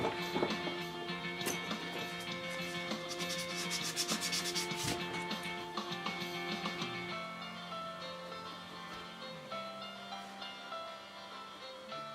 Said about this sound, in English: this one I'm going to Dremel myself